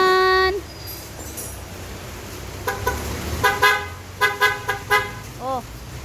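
A Kawasaki Z1000 motorcycle horn sounds in one long blast, then several short toots follow in quick succession, loud and close over faint background noise.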